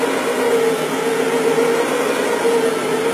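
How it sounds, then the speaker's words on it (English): A carpet cleaning machine with two counter-rotating brushes runs on carpet for dry soil removal, giving a loud, steady motorized whir and hum with no speech. "Use our brush pro for dry soil removal. It's got two counter rotating brushes, and it's again excellent at removing dry soil from carpets."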